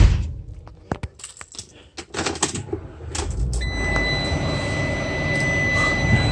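2017 Ram ProMaster cargo van being started: keys rattle and clicks come first, then the engine catches and settles into a steady idle hum with a faint electronic chime over it.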